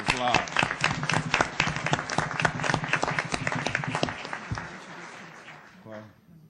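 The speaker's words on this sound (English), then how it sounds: "All right, a round of applause." An audience at a county assessors' annual board meeting gives a round of applause for newly elected officials, a burst of dense clapping that thins and fades over several seconds, with voices talking over it.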